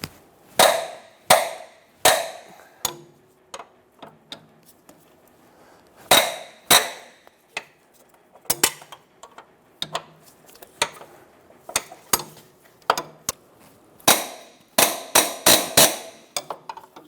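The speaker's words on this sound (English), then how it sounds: "Using a 14mm, we're going to undo the bolts" Front upper control arm bolts on a 2003-2007 Infiniti G35 are undone with a 14mm wrench, giving sharp metallic clanks and clicks in irregular bursts, close by, with quieter ticks between them.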